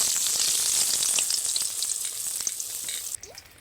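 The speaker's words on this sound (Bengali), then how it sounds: "এবারে তেল কড়াইতে ছেড়ে দেব" A gram-flour-coated pumpkin leaf roll fries in oil in a kadai with a loud, bright, continuous sizzle and crackle that softens sharply near the end.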